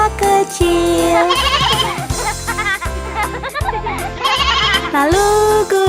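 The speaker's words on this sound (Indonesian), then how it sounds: "ada domba kecil" A little cartoon sheep bleats inside a bouncy Indonesian children's song: wavering, warbling bleats ride over jingly music and a thumping beat, repeating several times with singing around them.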